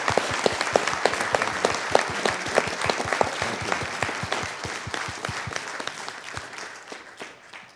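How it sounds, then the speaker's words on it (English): Audience at a talk on HIV/AIDS science and policy bursts into sustained applause of dense, close clapping that slowly thins and fades over several seconds. "So I'd just like to give you a round of applause for your life's work"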